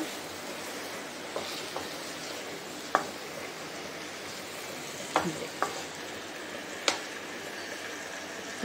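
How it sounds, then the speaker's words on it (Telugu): Tomatoes fry in a pan with a continuous soft sizzle, while a spatula scrapes and taps the pan in several sharp, separate knocks as they are stirred. "ఇప్పుడు టమాటా వేసేసుకుందాం"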